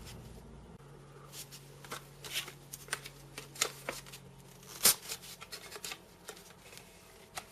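A small window is cut out of popsicle sticks for a model house wall, giving soft, uneven scraping and snipping strokes close to the mic, some louder snaps among quieter rasps, with no voices.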